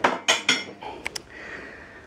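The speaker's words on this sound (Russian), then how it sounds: "Разбирает посудомойку." Dishes clatter as a dishwasher is unloaded at home: three sharp crockery knocks, then a couple of light clinks of cutlery, followed by a faint hiss.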